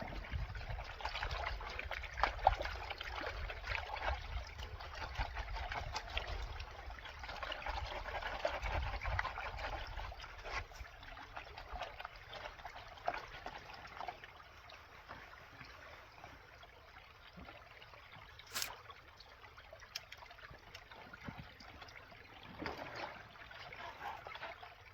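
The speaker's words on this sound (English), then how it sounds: "We washed our sluice box out into this bucket." Water washes gold-prospecting sluice box matting out into a bucket, a faint, continuous trickling and splashing that stays steady, with a few brief knocks and no talking.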